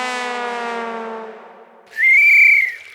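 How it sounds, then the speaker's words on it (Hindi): A shrill, steady whistle blast rings out loud and clear after a fading harmonic tone, in a comedic Hindi police-station scene. "सीटी"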